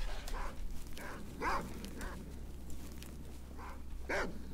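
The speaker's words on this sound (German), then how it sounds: "Ich höre Hunde." Dogs barking in the video game S.T.A.L.K.E.R. Shadow of Chernobyl, several short barks spaced irregularly over a steady low hum of game ambience, moderately distant.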